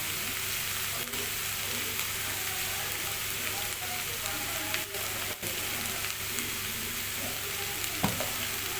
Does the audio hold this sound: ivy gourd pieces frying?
yes